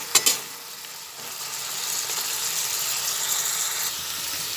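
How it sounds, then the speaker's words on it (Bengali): Bottle gourd and fried prawns turned together in a hot pan: a couple of sharp clinks at the start, then a continuous, even sizzle and hiss close by, with no talking. "এরপরে ভালোভাবে নাড়াচাড়া করে নিচ্ছি। চিংড়ি মাছটা পুরো লাউটার সঙ্গে মিশিয়ে দিচ্ছি।"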